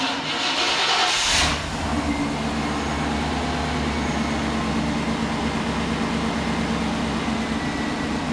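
A Chevy OBS pickup engine from the 1988–98 generation idles steadily after a fresh oil change, a continuous low hum and rumble with a louder hiss burst in the first second and a half, no talking.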